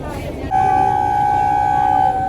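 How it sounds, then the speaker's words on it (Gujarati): A train's horn sounds at a station before departure, one loud, sustained blast lasting about a second and a half, preceded by a brief stretch of station ambience. "જો પાવો વાગી ગયો છે."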